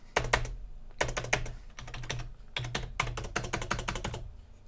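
Steady bursts of typing on a computer keyboard, quick clustered keystrokes in several runs separated by short pauses, close and clear with no talk.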